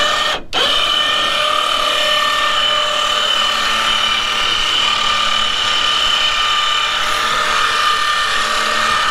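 A steady electric motor whine from a Hurley H30 davit winch lowering a boat into the water hums continuously and evenly, with a brief dip right at the start before settling into a constant drone.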